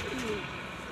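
A pigeon gives a soft, low coo once, nearby, over steady background hum and noise.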